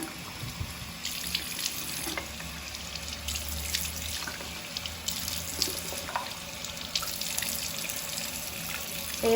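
Tap water runs steadily into a sink as soap is rinsed off after brow washing, a continuous close splashing stream with small drips, no talking.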